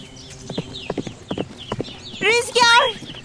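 Horse hooves clop rhythmically over ground, then a loud neigh breaks out near the end, close by.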